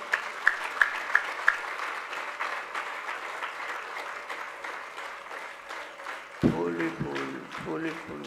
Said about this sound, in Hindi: ये फूल जिसने सजाए हैं उसके लिए तालियां नहीं बजाओगे